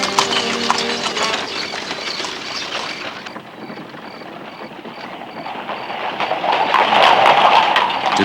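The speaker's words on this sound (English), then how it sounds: "Today, carriages travel its streets with a new generation of worshippers." Horse-drawn carriages clip-clopping along the streets of Luxor, hooves beating a steady rhythm close by, joined by jingling and ambient street noise that swells toward the end.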